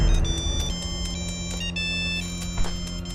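A telephone rings in a quiet house in Beit Lahia, Gaza, in 1996, sounding as a series of electronic tones over a low steady hum.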